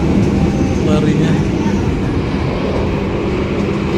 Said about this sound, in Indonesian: Laju banget kereta ini ya ternyata larinya